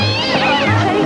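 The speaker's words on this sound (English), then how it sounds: "It's a cat!" A cat meowing in a scripted TV comedy scene, one drawn-out, strained cry close by amid shouting voices.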